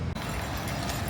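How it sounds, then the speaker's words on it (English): Hooves of a horse pulling a taxi carriage clip-clop along a street in Varadero, Cuba, a steady close rhythm of hoof falls over outdoor traffic noise. "Horse taxi."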